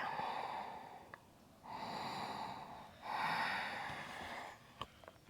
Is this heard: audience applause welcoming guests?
no